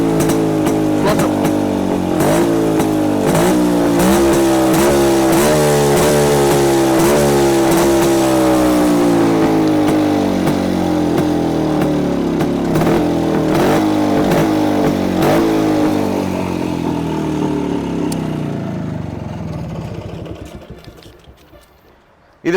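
A two-stroke motorcycle engine from the 1990s revs loudly and repeatedly close by, its exhaust crackling, before the sound fades away near the end.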